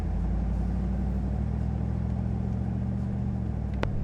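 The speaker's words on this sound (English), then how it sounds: "Sorry for the funky camera angle, but just doing a test drive" A Chevrolet Silverado GMT800 pickup with newly fitted four-piston big brakes and rotors rolls along on a test drive around the block, a steady low engine and road rumble heard from inside the cab throughout.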